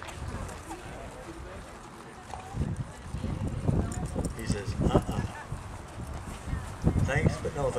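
Horse hooves clop and pound in uneven bursts on the dirt of a barrel racing arena at a rodeo in Crapaud, growing louder as the horse moves, mixed with crowd noise and people talking.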